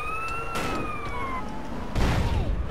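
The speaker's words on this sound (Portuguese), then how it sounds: "Pô, velho, agora vai ficar sirene aqui." A wailing fire engine siren sweeps slowly up and down in GTA San Andreas, with a couple of dull booms layered over it in a busy game soundscape.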